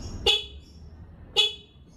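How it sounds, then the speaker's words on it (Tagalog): Two short, bright horn beeps from a Honda Wave motorcycle being tested, about a second apart, close and loud, over a low idling hum. "So, ito busina."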